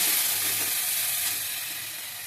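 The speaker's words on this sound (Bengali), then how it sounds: "মশলাটাকে ভালোভাবে আমি কষাবো" Ginger, cumin and chili paste sizzles hard in hot oil with onions, a loud bright frying hiss that eases slightly as it is stirred, with no talking.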